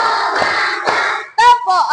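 A class of children in an Indonesian school does a rhythmic clapping game, with short bursts of group claps alternating with children's chanting voices, loud and close.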